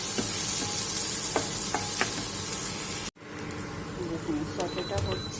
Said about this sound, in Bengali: একটু ফ্রাই সটে করে নেবো